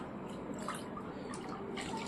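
Water sloshes and drips as a cloth mop is dunked in a bucket of water at home; faint splashes and trickles come close by, with no speech.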